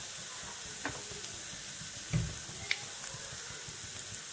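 Green chili sliced into rounds gets stirred into a hot pan of oil for spicy unniyappam, giving a faint, steady sizzle broken by a few soft scraping clicks from the spoon, with no talking.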